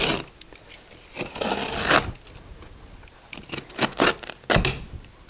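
Old carpet being cut off stairs, a series of close rasping, tearing cuts in irregular bursts of varying length with short pauses between them.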